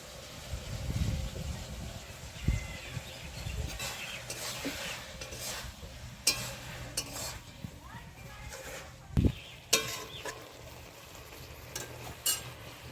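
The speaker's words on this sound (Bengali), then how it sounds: "মশলা সবজি ভেজে নিয়েছি" Vegetables such as spinach, potato and eggplant frying in a pan with ground green chili, cumin and ginger pastes, a steady low sizzle broken by scraping stirs and occasional clinks of the spatula, with a voice speaking intermittently over it.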